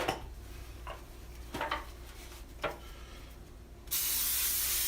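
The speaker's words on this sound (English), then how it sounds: "I think I have some butter spray over here" A few soft clinks of a pan, then a sustained hissing of butter spray from a can starts and continues steadily to the end.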